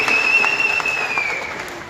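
Audience applause in an auditorium hall at a Telangana government event, a short dense burst of clapping over a sustained high electronic tone, fading slightly toward the end.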